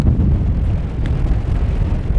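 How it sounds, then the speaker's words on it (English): Steady, heavy wind on a snowy winter mountain ridge at Pen y Fan and Corn Du in the Brecon Beacons roars and buffets the microphone throughout, a dense low rumble with no pauses and no voices. "it's got really cold and windy"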